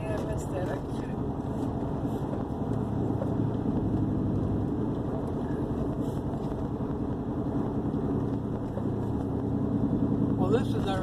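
A loud truck exhaust drones steadily while driving, the engine rumbling in the cab of a 1969 International cabover under continuous road and wind noise, with people talking over it.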